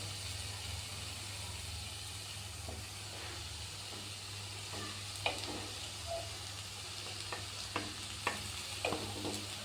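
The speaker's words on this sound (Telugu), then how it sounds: "పచ్చిమిర్చి పేస్ట్ వేగింది కదండి ఇప్పుడు వన్ హాఫ్ స్పూన్ పసుపు వేసుకుందాం ఇప్పుడు ఇది వేగాక ఆకుకూర వేసుకుందాం" Green chilli paste and half a spoon of turmeric fry in oil while leafy greens are being cooked, giving a steady low sizzle with a few soft stirring scrapes near the end.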